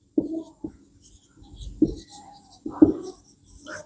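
Pen or chalk writing on a surface in short, close strokes, several distinct scratchy taps and scribbles in an uneven rhythm, with faint murmured voice in the background.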